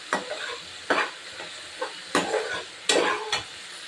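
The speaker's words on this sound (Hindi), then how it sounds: "और अब हम इसको अच्छे से भून लेंगे।" Okra with chopped green chillies fries in oil in a pan as it is stirred, producing a soft sizzle broken by repeated scraping strokes of a spoon at a steady, unhurried pace, heard up close.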